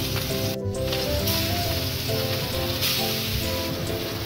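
Fish pieces fry in oil in a pan, a dense, steady hiss and crackle that fills the whole stretch, with a brief dip near the start.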